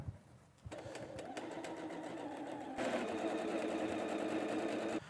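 A sewing machine stitches a quilt block onto a sashing strip, a continuous fast needle rattle starting after a brief pause and growing louder and busier midway before stopping near the end.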